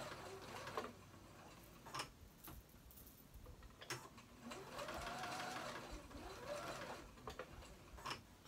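Sewing machine running a straight stitch along a hoodie seam, quiet mechanical whirring in several bursts with brief pauses and a few clicks in between.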